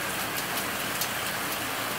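A heavy downpour falls in Antalya, sending a dense, continuous hiss of rain onto surfaces nearby. A faint engine hum sits underneath the rain.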